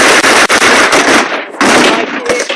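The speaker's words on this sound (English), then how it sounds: "Browning machine gun now operating." A Browning machine gun firing during a WW2 re-enactment weekend at Dover Castle, with loud rapid bursts of gunfire close by, broken by brief gaps and mixed with other battle noise.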